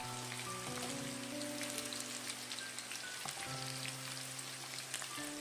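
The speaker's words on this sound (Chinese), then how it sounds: "再把肉条放入锅中复炸一下" Chicken breast strips re-frying in oil heated hotter for the second fry, giving a steady, even sizzle and crackle that carries on alone at a low, constant level.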